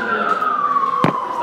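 An emergency vehicle siren wails outside a classroom, a loud steady tone gliding slowly downward, with a brief sharp knock partway through.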